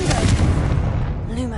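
A Confringo blasting curse cast in Hogwarts Legacy, a loud near fiery blast with a booming low rumble that swells and then fades away over a second and a half.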